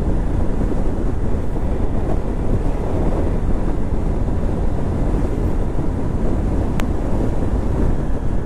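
A motorbike rides along a highway, buried under a constant loud roar of wind buffeting the microphone, a dense unbroken low rumble with no voices.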